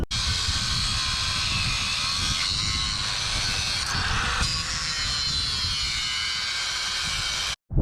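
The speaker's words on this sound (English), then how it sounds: "We're now going to cut off the old one and get it cleaned up." An old boat trailer spindle being cut off the axle, a loud continuous high-pitched grinding roar that holds steady for several seconds close by before stopping abruptly at the end.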